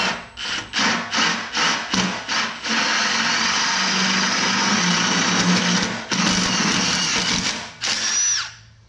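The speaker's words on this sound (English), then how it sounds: "let's drill this hole" A power drill bores through wood, starting with several short bursts, then running in one long continuous grind, with a brief pause near the end.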